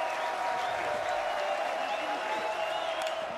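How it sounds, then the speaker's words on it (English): A sold-out crowd at a college baseball game between Florida and Florida State rises to its feet, cheering and applauding in a steady, dense roar that fills the stadium without a break. "Sold out crowd on its feet."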